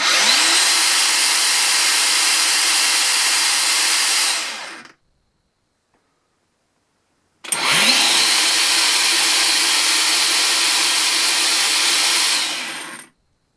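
A Makita 36V cordless 9-inch angle grinder running on two 18V batteries whines up to a loud, steady high-pitched roar, runs for several seconds, cuts to silence, then spins up again for a second run, close and alone.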